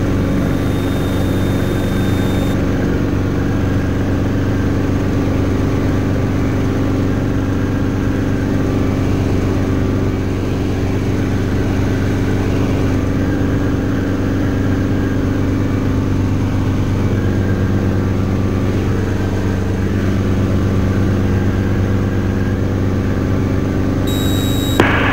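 A Schweizer S300 (Hughes 269B) helicopter landing, steady loud engine and rotor drone running continuously throughout, a low mechanical roar that holds level with no speech.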